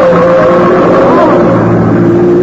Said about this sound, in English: There's a car coming right through that red light.